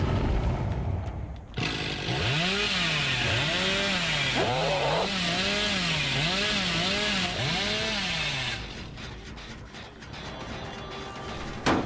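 A chainsaw in the horror game Dead by Daylight revs repeatedly, its engine pitch swooping up and down in a steady rhythm of surges for several seconds, loud and close, then cutting off abruptly.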